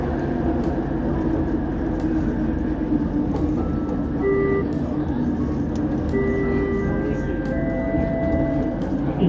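Steady rumble and hum of a Kuala Lumpur metro train running between stations, with faint electronic tones drifting over the noise.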